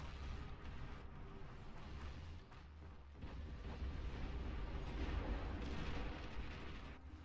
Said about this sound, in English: Cluster artillery from the Olympus.